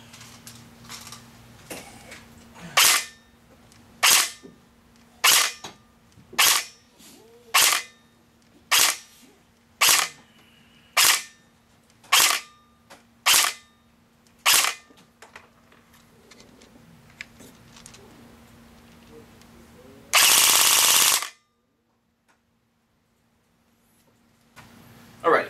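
An ECHO 1 Red Star Wolverine full-metal, real-wood blowback airsoft gun fires a dozen sharp single shots at a steady pace of about one every second or so, then a short loud full-auto burst, close and clear over faint background hum.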